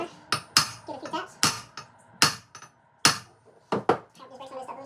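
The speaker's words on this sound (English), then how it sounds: "We're going to take a hammer, give it a few taps." A hammer taps sharply on a bass boat outboard motor's crankshaft during a teardown, several separate metallic knocks in an uneven rhythm, close up, with faint rustling between strikes.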